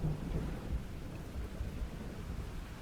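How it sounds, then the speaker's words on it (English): Rain hisses steadily, with low rolling thunder rumbling beneath it, in the dark, stormy sea of the fishing game DREDGE; the sound is continuous and fairly close, with no one speaking. "And of course it's raining."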